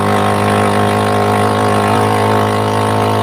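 A motorcycle engine drones steadily and loudly throughout, a constant close humming rumble as the bike rides along.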